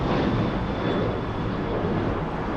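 Airplane taking off at LAX, a broad, steady roar of jet engines heard from a distance, continuous and without talk.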